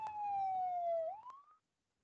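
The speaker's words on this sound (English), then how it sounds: "A police car arrived." A police car siren wails with a steady falling tone, then sweeps upward before cutting off, loud and close, with no talking.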